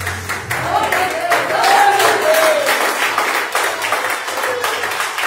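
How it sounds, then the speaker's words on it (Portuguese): A church congregation claps for the word of God, moderate sustained applause with a voice rising over it near the middle. "Uma salva de palmas para a palavra de Deus."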